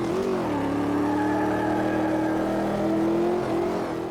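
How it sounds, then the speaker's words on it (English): A racing car in a video game holds a loud, sustained engine roar during a victory burnout after a hotlap, its pitch dipping briefly then holding steady and rising slightly near the end, with no voices. "right before I finish off my lap with a little victory burnout"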